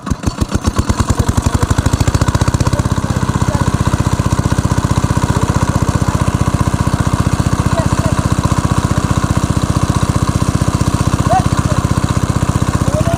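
A red shallow water pump engine running beside a river, its loud, fast, even chugging picking up speed from slow first beats into a steady drone, with voices faintly underneath.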